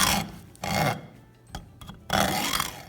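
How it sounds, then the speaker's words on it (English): A hacksaw rasps through a screw on a deadbolt job in two bursts of back-and-forth strokes separated by a quieter pause, with faint small handling noises in between; close and moderately loud. "I'll cut off the rest with the hacksaw."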